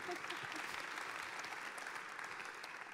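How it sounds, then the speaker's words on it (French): An audience applauds at a startup pitch event, giving steady, continuous clapping from a crowd of moderate size heard from a distance at a fairly low level. "Vous pouvez l'applaudir, bien sûr."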